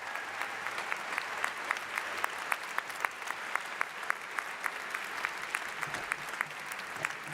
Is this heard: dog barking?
no